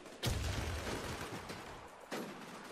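Gunfire in a video game shooter match, sharp bursts of shots with a rapid crackling volley near the start and another burst later, over a busy background with no clear talk.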